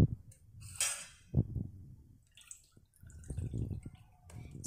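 Water is poured from a small vessel into a bowl of thick semolina and curd batter for suji idli, giving a brief splash and trickle followed by soft drips and spoon clinks against the bowl in a quiet kitchen.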